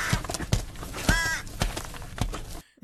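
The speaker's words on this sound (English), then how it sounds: "there's actually a horrible emaciated crow down there" An emaciated crow caws in a film scene, a few harsh rasping calls with thumps and rustling around them, close and loud, cut off abruptly at the end.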